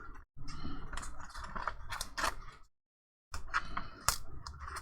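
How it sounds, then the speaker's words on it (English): Paper backing is peeled off a strip of tape in crackly, rustling tears and sharp little snaps, close up, with a brief silent pause midway before the peeling resumes. "Peel this paper off."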